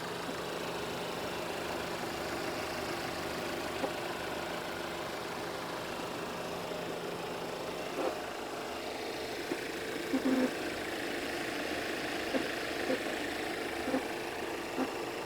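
A Geo Tracker engine idles steadily with a low rumble, with a few faint irregular knocks and clicks rising through it from the back of the engine.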